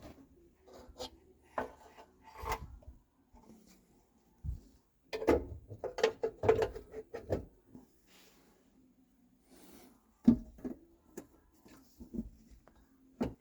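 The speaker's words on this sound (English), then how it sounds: "let's put the valve cover in" Valve cover fitted by hand onto the 250 engine of a 1967 Chevy van: scattered close metallic scrapes, rubs and knocks in irregular bursts, with quiet gaps between them.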